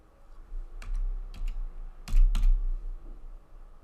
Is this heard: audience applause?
no